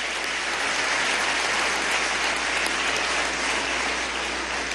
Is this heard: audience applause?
yes